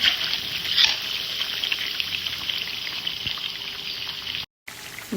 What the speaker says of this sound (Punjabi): ਆਪਣਾ ਮਟਨ ਦਾ ਫਰਾਈ ਹੋਣ ਨੂੰ ਕੁਝ ਟਾਈਮ ਹੋਰ ਇਹਨੂੰ ਡੀਪ ਫਰਾਈ ਕਰਨ ਲਈ ਠੀਕ ਹੈ ਜੀ